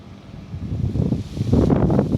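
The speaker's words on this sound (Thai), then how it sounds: "ลมหอนเลยพี่น้อง เสียงลมอยู่เนี่ยหลังบ้านครับ" Strong wind roaring and buffeting close to the microphone behind a house in Israel, a low rumbling gust that swells louder toward the end.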